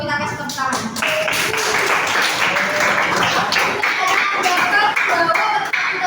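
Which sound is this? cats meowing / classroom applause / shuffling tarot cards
classroom applause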